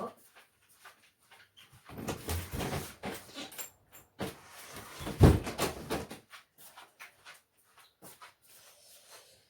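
A dog being let back into the house: a sliding door rattles open and shut, with paws, jingling and soft whimpers close by, amid household shuffling and a little background speech.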